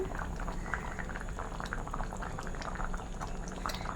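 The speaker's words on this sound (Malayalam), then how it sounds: "ഇനി നമുക്ക് 1 സ്പൂൺ നെയ്യ് കൂടെ ഒഴിച്ചു കൊടുക്കാം." A thickening Kerala-style mixture of banana pieces bubbles and pops steadily in a pot as a spoon of ghee is added, a continuous close, moderately quiet simmering with no talk.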